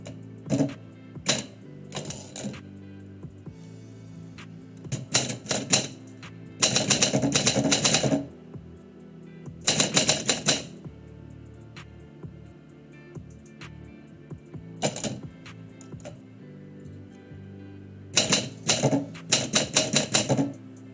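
Manual typewriter typing poetry live: clusters of sharp, rapid key strikes and clacking carriage mechanics come in bursts separated by pauses, close and fairly loud, with no talk.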